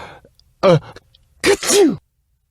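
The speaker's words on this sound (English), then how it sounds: "The bear, tickled by the mouse's whiskers, gave an enormous sneeze." A bear's enormous sneeze in a children's story, given as two bursts: a brief breathy intake, then a loud, drawn-out voiced blast that falls in pitch, close and clear with no other sound around it.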